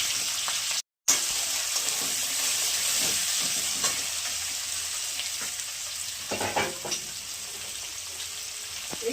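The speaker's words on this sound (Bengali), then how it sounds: "পেঁয়াজগুলো ভেজে নিচ্ছি" Onions frying in leftover potato-frying oil for a mutton curry, a dense continuous sizzle with scattered crackles and a few stirring scrapes, close and even, briefly cutting out near the start, no voices.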